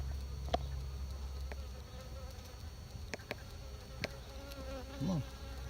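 Honey bees buzz faintly around a beehive in a soft, continuous hum, with a few brief louder passes near the end.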